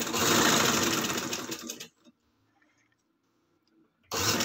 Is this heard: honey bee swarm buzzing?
no